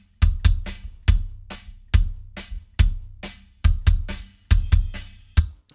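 A gated kick drum in a mix of bass and kick, its tail turned down so that mostly the thud comes through, thumps in an uneven groove among lighter drum hits and cymbal splashes, each beat punchy and cut short.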